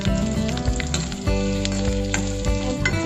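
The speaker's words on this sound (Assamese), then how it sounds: "পিঁয়াজটো ধুনীয়াকৈ গোল্ডেন ব্ৰাউন নোহোৱালৈকে ভাজিম আমি" Onions frying in hot oil in a home kitchen while making bottle gourd kofta, a loud, close, continuous sizzle with scattered crackles and stirring scrapes, no talking.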